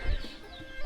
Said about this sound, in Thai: อยู่กันแบบเงียบๆได้ยินแต่เสียงไก่ขัน